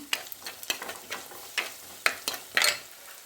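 Fenugreek, green chili, shallots and leaves frying in a pan, a soft sizzle broken by repeated sharp clinks and scrapes of a stirring spoon against the metal at an irregular pace.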